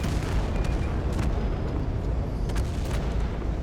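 Heavy airstrikes pound in the video game Total Conflict: Resistance as a dense, continuous low rumble of booms and blasts with scattered gunfire crackling over it, and no talk.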